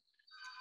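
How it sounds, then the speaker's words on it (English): A phone ringtone chirps in the background, faint at first, then swelling into a steady electronic trill that carries through to the end of the brief moment. "I'm sorry about that phone in the background."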